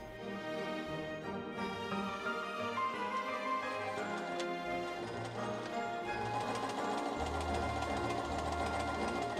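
A sewing machine stitches a waistband, reversing, pivoting and reinforcing a corner before running along the short end; steady rapid mechanical ticking runs throughout at a close, even level with a louder low motor hum in the last seconds.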